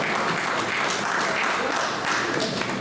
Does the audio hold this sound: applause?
yes